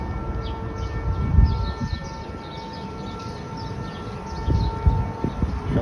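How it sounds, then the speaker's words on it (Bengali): A civil defense siren test in Bahrain drones as a steady, distant tone under outdoor rumble, with low thumps and passing noise swelling around it. "সাইরেনের শব্দ শুনতেছেন।"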